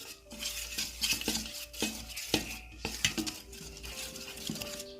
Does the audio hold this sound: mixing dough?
yes